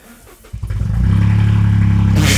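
A Toyota GR Yaris fitted with a titanium exhaust cranks for a moment, then fires up with a sharp bark and settles into a loud, raspy, steady idle very close by.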